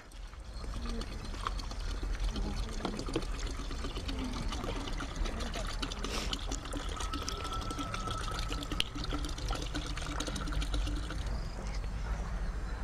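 Soaked tobacco leaf solution is poured into a mixture in a continuous trickling splash of liquid that runs steadily throughout.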